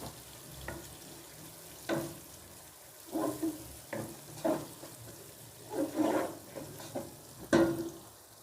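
Ginger, garlic and green chili paste frying in a pan for a chicken chana dal, with soft intermittent sizzles and stirring scrapes rising and falling in bursts, no talking.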